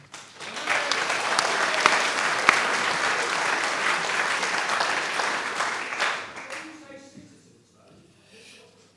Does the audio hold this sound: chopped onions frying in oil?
no